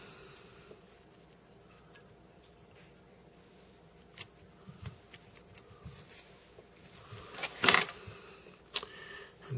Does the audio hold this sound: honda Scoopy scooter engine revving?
no